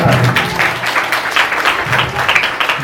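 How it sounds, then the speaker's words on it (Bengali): An Independence Day program audience from the Ramakrishna Math gives loud applause, dense and steady claps from many hands close by for about three seconds, with no speech over it. "রামকৃষ্ণ মঠ আঞ্চলিক পক্ষ থেকে জোরে হাততালি"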